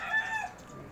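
A chicken clucks briefly and faintly among the hens kept in a small coop on a third-floor rooftop garden, with a short throaty call and a little background noise.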